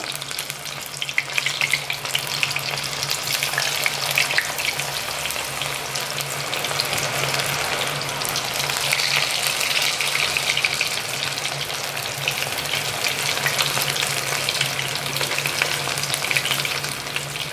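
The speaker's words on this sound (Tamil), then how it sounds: "எண்ணெய் நல்லா காஞ்சிடுச்சு இப்போ நம்ம ஏற்கனவே ரெடி பண்ணி வச்சுருக்கேன் மா காலிஃப்ளவர் இதை நம்ம போட வேண்டியதான்" Cauliflower pakoda deep frying in hot oil, a dense, steady, even sizzle that holds close and fairly loud throughout with no voices.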